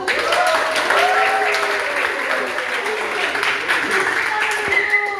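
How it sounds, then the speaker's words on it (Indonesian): An audience at a local-wisdom speech competition claps together after a participant's speech, a full, lively burst of applause with a voice speaking over it. "tepuk tangan dulu dong"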